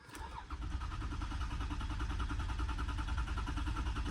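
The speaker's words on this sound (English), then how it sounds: "God, the engine sounds healthy" A 1964 Ford Galaxie 500 with hidden damage cranks and catches, then settles into a steady, rumbling idle, close and continuous.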